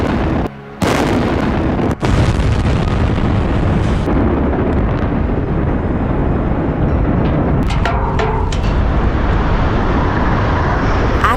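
Old cooling towers being demolished in Kentucky give a sustained, loud, broadband roar of collapse that runs through the whole clip, with a sharp blast-like thud near the start and crackling debris later.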